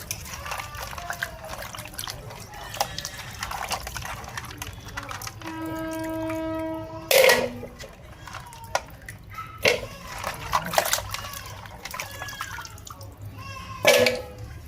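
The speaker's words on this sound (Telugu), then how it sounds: "వాటర్ పోసుకొని" Water trickles and splashes close by, with intermittent louder pours and drips over a quiet background.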